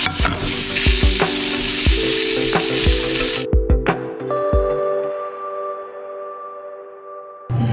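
Galbi, Korean short ribs, sizzle in olive oil and garlic with a loud, close frying hiss and repeated thuds and clanks of cooking. The sizzle cuts off abruptly halfway, leaving a few knocks and a steady, faint tonal hum.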